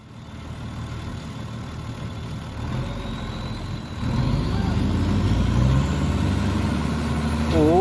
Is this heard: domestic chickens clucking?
no